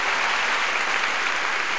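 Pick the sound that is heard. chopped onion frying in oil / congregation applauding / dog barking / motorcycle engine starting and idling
congregation applauding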